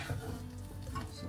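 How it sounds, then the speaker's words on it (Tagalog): An egg frying in a pan, a soft continuous sizzle and crackle held at low level throughout the short moment, with no one talking. "Itong pagluluto ko ng egg, guys"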